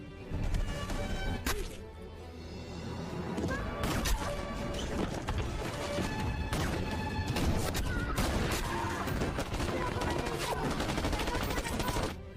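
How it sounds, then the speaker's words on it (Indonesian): Intense film battle gunfire from an Iranian war movie about a sniper, with rapid bursts of automatic shots, sharp cracks and crashing impacts filling the scene loudly and continuously. "Dia menembak tentara Iran dengan membabi buta hingga menewaskan Ismail."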